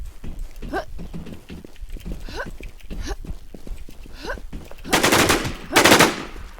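Gunfire in the video game Infestation, rapid bursts of shots with two loud, dense volleys near the end, mixed with excited voices talking throughout.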